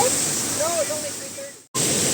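Waterfall cascades at Erawan park in Thailand pour in a steady, loud broadband rush, briefly cut off near the end before the roar resumes.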